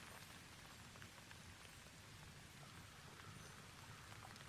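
Steady rain falling in the False Hero demo video game, a dense, even hiss of drops pattering on surfaces, constant and fairly quiet throughout with no voices.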